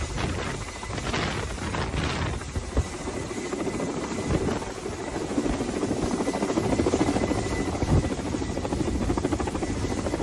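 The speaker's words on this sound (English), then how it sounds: "We now see the helicopter trying to hover back towards the ship." Loud, continuous thrumming of a helicopter hovering near a ship, rotor pulse and engine whine steady throughout with wind-like rushing noise.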